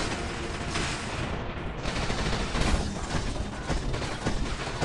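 Sniper gunfire in the video game War Robots, dense loud bursts of shots and mechanical combat noise packed together without letup.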